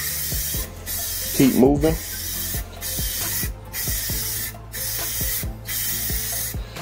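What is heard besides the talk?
spray painting a coat of white Rust-Oleum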